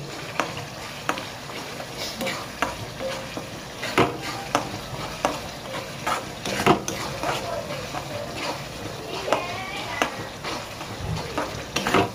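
Egg mince being added and stirred into gravy frying in a pan for egg bheja fry, with steady sizzling and repeated scraping and clinking of a utensil against the pan throughout.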